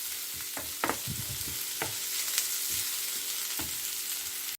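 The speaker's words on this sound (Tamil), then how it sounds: "இந்த வெங்காயம், உள்ளி, இஞ்சி எல்லாத்துண்ட பச்சை வாசனை போகிற அளவுக்கு வதக்கினா சரி." Onion, garlic and ginger sauté in a pan for a vada curry, a steady sizzle broken by several scraping stirs and clicks of a utensil, close and moderately loud, with no talking.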